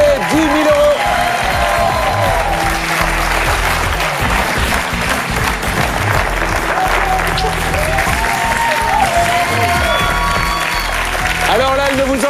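A studio audience at a television quiz show keeps up loud, sustained applause and cheering after a contestant wins, a dense continuous wash of clapping with voices talking over it throughout.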